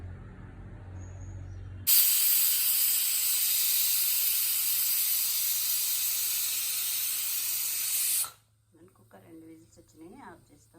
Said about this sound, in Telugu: ముందు కుక్కర్లో కొంచెం వాటర్ పోసేసి ఇది ఒక రెండు విజిల్స్ వచ్చేటట్టుగా కుక్ చేసుకుందాం